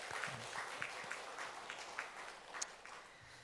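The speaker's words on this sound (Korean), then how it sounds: "박수로 한번 축하하겠습니다" Faint, thin applause from a congregation during a Korean church worship service, soft steady clapping heard at a distance for a few seconds.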